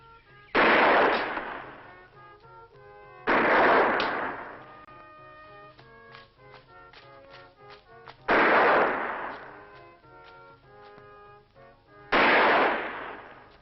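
Four loud, booming cannon shots ring out in turn, each a broad blast with a long ringing decay, separated by quieter rattling and clanking handling noise in between; no one speaks.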